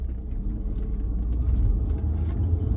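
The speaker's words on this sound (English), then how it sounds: "this being a diesel, for some reason you can really hear it's a diesel" Mercedes CLS 350 Grand Edition diesel car driving along, a steady low engine and road rumble heard from inside the cabin, continuous and fairly loud with no talking.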